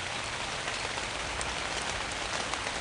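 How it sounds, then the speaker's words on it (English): Steady cartoon rain effect, a dense even patter of falling drops that runs without a break, fairly loud and alone. "I can't escape the rain!"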